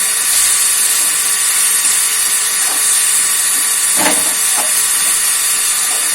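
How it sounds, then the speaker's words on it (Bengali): A household water pump runs steadily in a kitchen while spicy tengra fish masala cooks, giving a constant loud hiss that fills the whole clip, with a few brief clicks and knocks breaking through near the middle. "এখানে পাম্প চলছে বলে এরকম আওয়াজটা হচ্ছে।"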